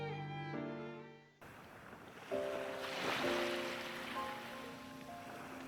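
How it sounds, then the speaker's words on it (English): Distant ocean waves wash in as a soft, continuous surf hiss beneath gentle sustained musical tones, quiet and far off in a nighttime setting. "I can hear waves in the distance."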